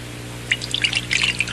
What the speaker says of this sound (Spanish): vacía el agua de nuevo en la taza medidora